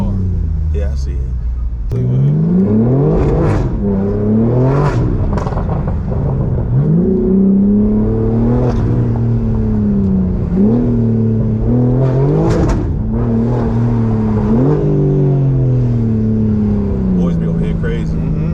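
A straight-piped BMW G82 M4 on a street, its engine revving hard in repeated rising and falling bursts, loud and close, with voices talking over it.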